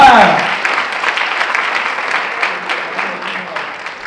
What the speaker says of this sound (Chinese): 我哋热烈嘅掌声要请范克儿导演、宋满东先生同埋陈国辉先生一同上台分享